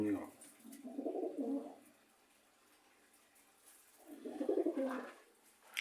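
Pigeons coo in a loft, two bursts of soft throaty cooing separated by a quiet pause, close by.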